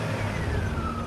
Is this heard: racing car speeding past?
yes